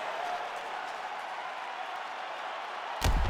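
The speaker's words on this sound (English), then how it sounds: "So the crowd voicing its appreciation after that round." An arena crowd at a UFC lightweight main event, Iaquinta vs McGregor, applauds after a round, a steady, dense wash of clapping and cheering that swells sharply at the very end.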